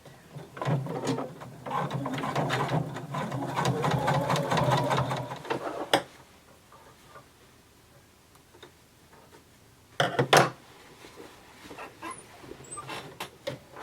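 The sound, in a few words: sewing machine top stitching a denim skirt waistband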